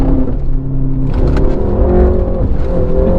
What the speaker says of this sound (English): My grandmother thinks my car's broken because it makes such a noise.